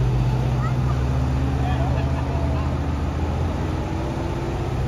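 A County 1174 tractor drives off at a local tractor run, its steady diesel engine drone holding a low constant hum that slowly fades as it pulls away, with light traffic noise around.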